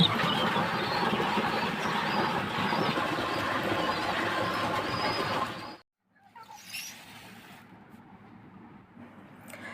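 A hen sitting on quail eggs makes soft clucking and rustling for about six seconds against a busy background. The sound then drops away to near quiet, with only faint, sparse noises after.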